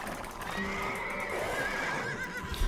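Horses in Age of Empires 2 DE giving a drawn-out whinny over soft clip-clop hooves and ambient game background, fairly close and clear.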